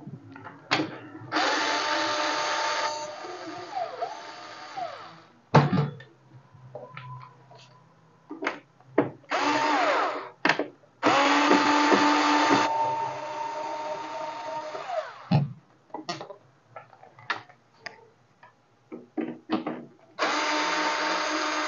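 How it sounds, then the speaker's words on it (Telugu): A powered screwdriver removes the screws from an Olivetti PR2 Plus printer that will not power on, several loud, steady whirring bursts separated by quieter clicks, handling and clunks of the casing. "సో ఈ 4 స్క్రూ రిమూవ్ చేద్దాం ఇప్పుడు"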